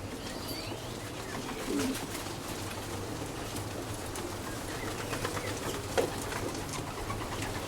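A racing pigeon gives soft, low coos among faint background chirps and rustling, fairly quiet with no talking.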